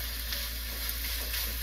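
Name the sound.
stirring sizzling Thai-style tofu curry in pan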